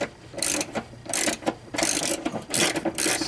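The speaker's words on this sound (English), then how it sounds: "we're going to take this bolt out" A ratchet with a Torx socket loosens a seat bolt on a GM Chevy seat, giving close, loud bursts of rapid pawl clicking in repeated strokes separated by short pauses.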